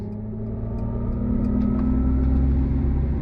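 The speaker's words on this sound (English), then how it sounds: "it's going to produce a little bit of sound in the cabin when you go on throttle" Inside the cabin of a 2023 Mercedes-Benz EQE 350 electric sedan, a synthetic sport-mode drive sound hums and rises steadily under acceleration, a smooth layered tone over low road rumble.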